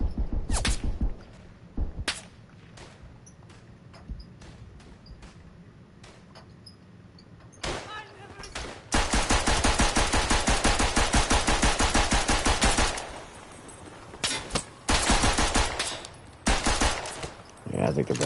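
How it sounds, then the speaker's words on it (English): Rapid bursts of machine pistol fire in a Western Front shooter game, short stuttering volleys early on, then long sustained loud automatic strings with brief pauses between them. "Gotta love the machine pistol."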